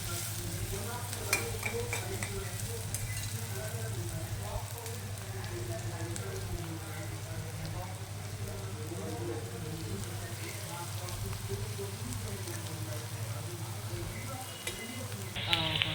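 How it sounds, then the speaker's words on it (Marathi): Onions sauté on a lowered gas flame while a spoon stirs them in the pan, giving a soft, steady sizzle with faint scraping throughout. "गॅस थोडा कमी करून द्यायचा, 2 ते 3 मिनिटं परतून घ्यायचं।"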